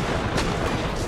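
A single sharp gunshot bursts out over a steady, noisy soundscape in the video game ARK, with a few fainter crackles after it.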